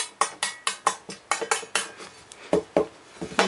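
Aluminum hula hoops clatter and clank against each other in a rapid series of sharp, ringing hits, close and fairly loud, with no talking.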